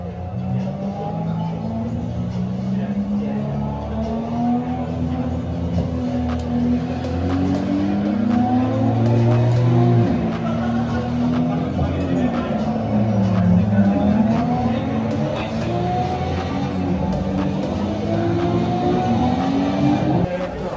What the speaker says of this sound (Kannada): ರೇಸಿಂಗ್.